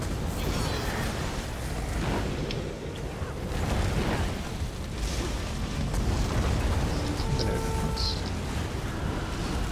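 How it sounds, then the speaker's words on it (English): Bombs explode during a raid in a video game, a run of deep booms and bursts rolling through a dense, noisy battle soundscape, with voices talking underneath. "Another bomb."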